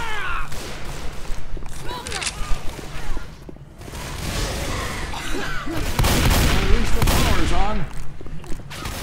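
Gunfire in Left 4 Dead 2 rattles in dense, loud bursts over chaotic combat noise, with people talking throughout.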